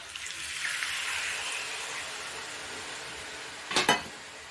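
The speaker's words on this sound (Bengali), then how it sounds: "সামান্য একটু জল দিয়ে দিচ্ছি।" Water added to a pan of alur dom, a potato curry, cooking on the stove: a hissing sizzle that swells and fades, ending with a short clatter of utensil against the pan.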